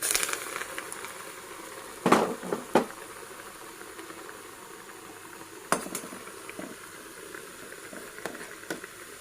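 Cowpea vadas (bobbarla garelu) frying in hot oil give a steady soft hiss and bubbling, broken by a few sharper splashes and utensil clinks as batter goes in, close by with no talking.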